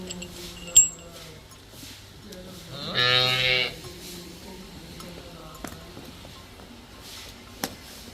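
A single drawn-out moo from a cow with calf rises from a quiet dairy farmyard, with a few faint clinks and thumps around it.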